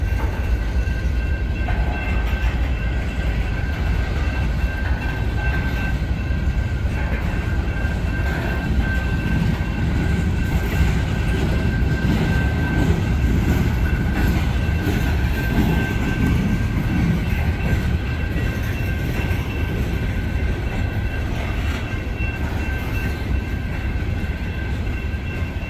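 A CN freight train rolls past at night near Ladysmith with its DPU lights on, a loud continuous rumble of railcars with steady rhythmic clickety-clack of wheels and a faint high tone throughout, no talking.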